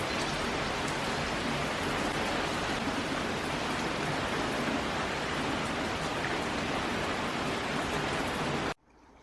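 Steady rain falls outside a boatbuilding workshop where timber planks have been brought in, a dense, even hiss of drops that carries unbroken for several seconds before stopping abruptly.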